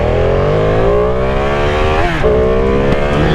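A 2020 Ducati Panigale V2 motorcycle at full throttle, its engine wailing loud and close as revs climb, dip briefly with a gear change, then rise again.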